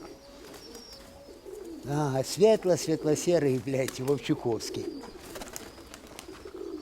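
Pigeons coo in a series of throaty, rhythmic calls close by, mixed with someone talking over them.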